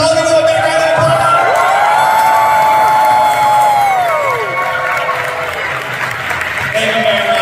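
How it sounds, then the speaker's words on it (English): Loud convention-panel crowd at San Diego Comic-Con cheers and applauds with whoops and shouts, a dense roar throughout while a high tone swells and fades over the noise. "Let's all give them a big round of applause."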